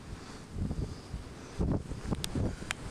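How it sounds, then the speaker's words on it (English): Strong Patagonian wind buffeting the microphone in rough, uneven gusts that swell and ease, with loud low rumbling bursts and no voices. "Super windy."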